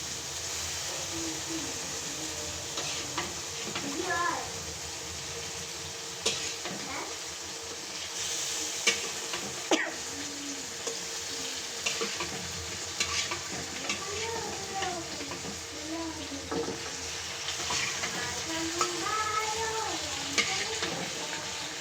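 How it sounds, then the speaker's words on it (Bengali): Onion, chili, tomato and turmeric spices sauté in a wok for a fish curry, a continuous sizzle and fry broken by repeated scraping and stirring strokes of a spatula, close and fairly even throughout. "এখন আমি সুন্দরভাবে মশলাগুলো কষিয়ে নিব।"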